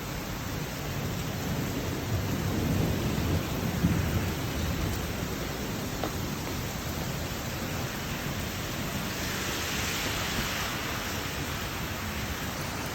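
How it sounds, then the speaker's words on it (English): A thunderstorm after a lightning strike, with a steady broadband roar of rain and rumbling thunder that swells slightly early on and continues without speech. "Lightning strike."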